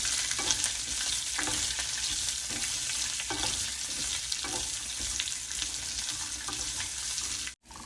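Pumpkin peel, peanuts and finely chopped green chillies sauté in a pan for a pumpkin peel chutney, giving a steady close sizzle with soft stirring scrapes and no talking.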